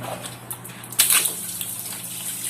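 A burst of water spraying onto moss on cement starts about a second in, a broad steady hiss with a sharp onset, continuing over a low background hum.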